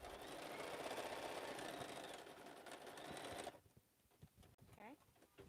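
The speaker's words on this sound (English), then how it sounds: "I can sew from one end to the other." Quietly, a sewing machine runs a short seam on a slouch bag, a soft continuous whir for a few seconds that stops abruptly, leaving faint handling clicks and rustles.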